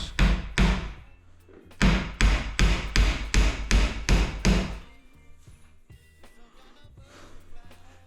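A hammer drives a nail punch to set architrave nails into timber. Two blows, then a quick run of seven or eight sharp, loud, evenly spaced strikes close by, followed by quieter handling knocks.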